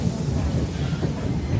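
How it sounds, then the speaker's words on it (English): A train pulled by steam locomotive engine number 475 through Lancaster County countryside, a steady close rumble with a rolling rail clatter and hiss, loud and continuous. "Pulling our train through this beautiful Lancaster County countryside is engine number 475."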